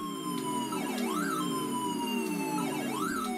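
Galaxian arcade game audio playing steadily, with a continuous droning tone, swooping pitch sweeps of diving attackers and higher beeps layered over it; no talking.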